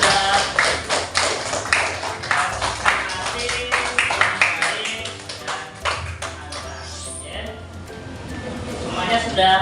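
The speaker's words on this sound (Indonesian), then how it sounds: "Tepuk tangan untuk kita semua sudah" A classroom of students claps in rhythmic bursts, a steady patter of hand claps near and moderately loud, thinning out toward the end as voices mix in.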